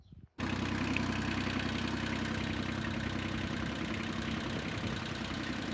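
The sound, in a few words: tractor engine idling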